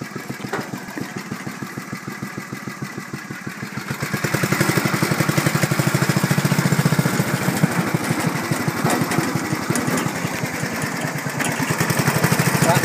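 A 1973 Cushman Minute Miser's small engine idles and then revs up as the vehicle drives off, running steadily and fairly loud throughout with a rapid, buzzy pulse.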